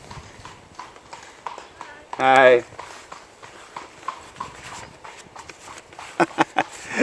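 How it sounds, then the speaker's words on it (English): Horse hooves clip-clop past at a steady trot on hard ground, with a brief shout partway through. "There's always just horses just trotting past here."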